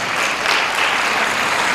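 Applause from an audience at a celebration honoring folk bard Ashugh Razmar Sasuntsi's 65th birthday, a steady, full clapping from many hands, sustained and fairly loud throughout, with no speech.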